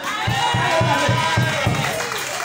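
A church congregation acclaiming and cheering, a loud mass of voices with rhythmic pulsing beats underneath, sustained throughout at close range.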